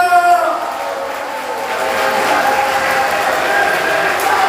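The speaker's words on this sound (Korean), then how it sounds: "다시 한번 후보자님들께 큰 박수 부탁드립니다" A large audience applauds candidates at a party rally and members' convention in Jeju, a dense continuous roar of clapping that follows fading voices at the start.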